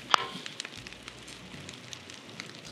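Rice Krispies cereal dumped into brewing water for a lager, giving faint scattered snapping and crackling pops over a soft background hiss, one sharper pop near the start.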